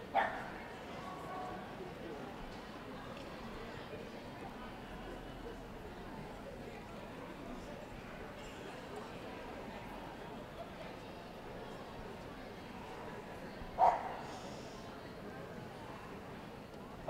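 A Border Terrier barks at an indoor dog show, two short, isolated yaps standing out above a low, quiet murmur of hall ambience, one at the very start and one near the end.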